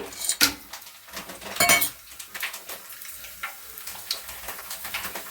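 Whole spices such as cloves and star anise sizzle in hot ghee and oil for chicken biryani, a close crackling fry punctuated by sharp metallic clinks and scrapes of a utensil against the pot.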